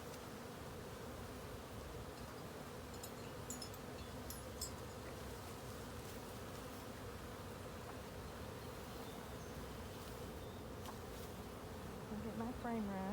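Honeybees buzz in a thick, continuous drone around an open hive during an inspection, close and steady for the whole stretch, with faint handling sounds now and then.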